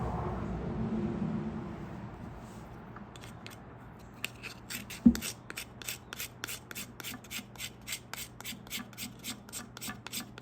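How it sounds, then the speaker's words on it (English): A knife spine scrapes shavings off a piece of pine pitch wood, a fast series of short, rhythmic rasping strokes close up, with a single louder knock partway through and no talking. "Just scraping on this, I can smell the pine."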